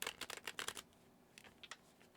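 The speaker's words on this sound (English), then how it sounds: "so that's why you see me struggle with the shuffle" A Light Seers tarot deck shuffled by hand, a quick burst of crisp riffling card flutters followed by a few separate sharp snaps and slides, close and fairly quiet.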